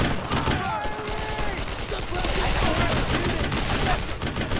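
Rapid rifle and machine gun fire rattles in bursts in the World War II shooter Brothers In Arms: Road to Hill 30, loud and continuous, with soldiers shouting over the shots.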